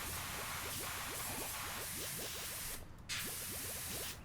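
A pressure washer in PowerWash Simulator sprays cleaner on a fire truck as a steady hiss, faint and continuous, with a brief break near the end before the spray resumes.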